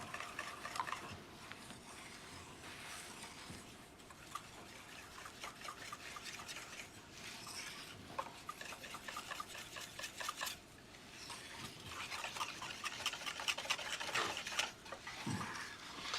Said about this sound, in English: I'm pushing my whisk end into the corner just to make sure I get any of that chocolate